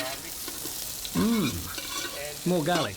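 Garlic fries and is stirred in a pan with a steady sizzle and scraping, while people talk over it in brief, lively exchanges.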